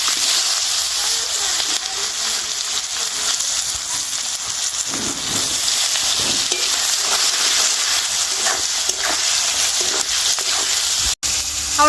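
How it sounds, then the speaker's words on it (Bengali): Two hundred fifty grams of chopped onions fry with cloves, cardamom and cumin for a Bengali mutton curry, giving a loud, constant close sizzle with occasional stirring scrapes and one sharp click near the end. "আমরা এখানে একটু পেঁয়াজ ভেজে দিচ্ছি।"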